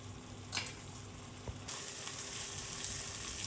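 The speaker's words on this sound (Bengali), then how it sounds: "সবগুলো মশলাকে খুব ভালোভাবে একটু কষিয়ে নেব কিছুটা পানি দিয়ে।" Ground spices with coriander and turmeric sizzle and fry steadily in a pan, a continuous close hiss that jumps louder partway through, with a couple of brief clinks.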